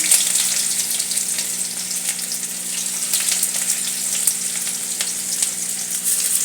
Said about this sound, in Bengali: এবার কিন্তু আমি কড়াতে আগে পেঁয়াজটা দিয়ে দিলাম